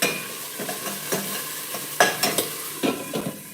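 Kabocha squash and oyster mushrooms sautéing in a pan, with a steady background sizzle broken by repeated scraping stir strokes and sharper utensil knocks. No one talks.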